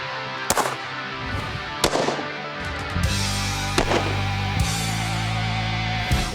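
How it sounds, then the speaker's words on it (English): Sharp gunshots from a Ruger LCR revolver chambered in 327 Federal, firing 32 H&R rounds on an outdoor range: about six loud, evenly spaced cracks over a steady low background hum. "I got out the Ruger LCR. This is in the 327 Federal, but because I'm smart, I'm shooting the 32 H&R in it."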